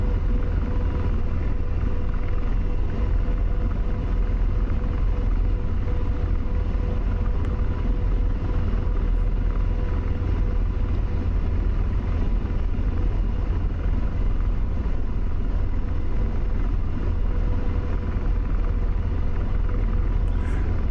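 An AH-64 Apache helicopter in the DCS flight simulator taxis with a constant dense rotor and turbine rumble, loud and unbroken throughout.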